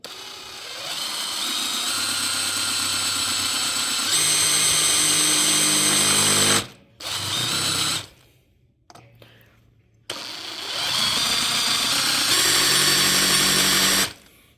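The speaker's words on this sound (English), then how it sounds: "Let's go ahead and get this guy drilled." A power drill bores into a brake hub during a disc brake conversion on a 1958 GMC pickup, its loud whining motor running in long sustained bursts with brief pauses and restarts.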